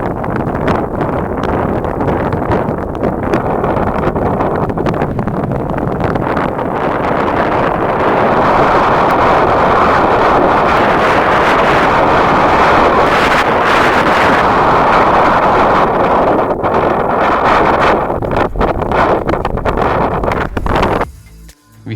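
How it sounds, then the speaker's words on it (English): Gusty mountain wind at a high summit camp on a Satopanth expedition, a loud, continuous roaring buffet that swells and eases for about twenty seconds and then drops away abruptly at the end. "On reaching the summit camp, we were met by gusty winds and bad weather."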